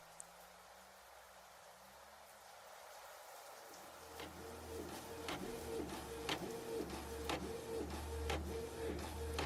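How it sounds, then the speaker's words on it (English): A home printer prints a design onto a clear plastic transparency, starting after a quiet stretch with a steady mechanical whir and evenly repeating clicks and thumps from the print head, close by. "my next step would be to actually print it out on clear plastic"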